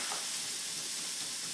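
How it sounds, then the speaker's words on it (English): Chopped carrots and onion fry in a pan with a soft, even hiss of hot oil, faint and continuous without any pauses. "Okay, so I'm just going to fry that off."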